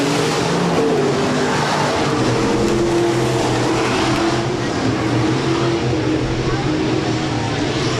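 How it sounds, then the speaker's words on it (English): B-Modified race cars roaring around Rapid Speedway on a dirt oval, a loud continuous engine drone with rising and falling revs as the pack passes, steady throughout with crowd ambience beneath. "Coulter Deutsch will bang down to the inside of Mulder through traffic with the race lead."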